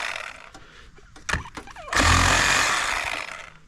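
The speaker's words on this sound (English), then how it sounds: "Let's see if I can get it out with the Sawzall." A Sawzall reciprocating saw cutting a chunky piece of scrap steel in a back yard: a few short knocks and bursts, then the saw revs up into a loud, steady buzzing cut that eases slightly toward the end.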